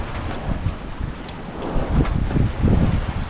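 Strong wind buffets a sailboat under one reefed mainsail and headsail in 14 knots, a steady roaring rush with low gusty thumps and water sloshing close by, no voices.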